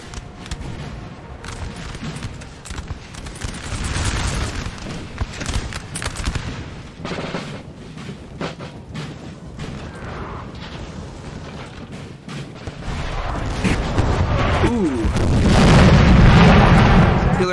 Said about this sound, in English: Artillery from across the way.